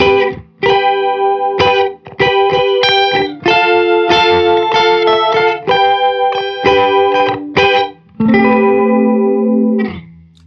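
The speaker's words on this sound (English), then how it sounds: "so I used a somersault to dial in what I think is a pretty standard sounding chorus" Electric guitar run through a Caroline Somersault chorus pedal with its tone switched darker, playing a series of separate sustained chords and notes with a lush, wavering shimmer, loud and close with brief gaps between phrases and no voices.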